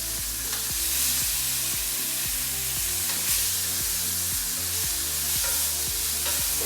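Lamb pieces sear in a hot pan, a loud, steady sizzle with a constant bright hiss, while metal stirring or scraping knocks out a regular rhythm underneath throughout.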